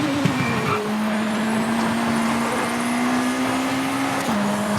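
Norma race car engine in V-Rally 4 held at full throttle, a loud steady drone with a brief gear-change dip near the start and another near the end.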